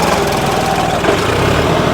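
A John Deere 5210 tractor engine straining under load and close to stalling, a loud, steady, rough diesel drone with a dense, rattling roar and no pauses.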